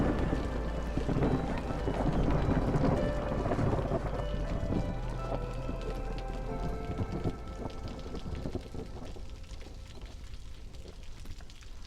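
Steady, heavy storm rain pours in the game Against the Storm, a dense hiss with a low rumble beneath that fades slightly toward the end.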